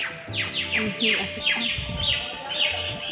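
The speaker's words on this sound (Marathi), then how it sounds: "पक्ष्यांचा किलबिलाट एकदम मस्त आहे." Birds chirp and tweet in quick, repeated descending calls from several directions at a temple with a large banyan tree, with a brief bit of talking partway through.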